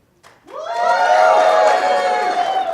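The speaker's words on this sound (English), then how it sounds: "If you want to vote for number 1, let's hear a cheer." Convention audience at a PAX East panel erupting in loud, sustained cheering, shouting and whooping to vote, swelling from near silence after a quarter second and staying full and dense to the end.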